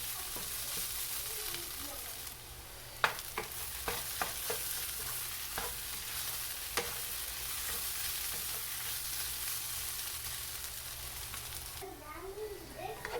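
A spatula stirs and scrapes a sticky roasting mixture in a pan, with irregular clacks and scrapes over a steady close sizzle, one sharp knock standing out, with no talk.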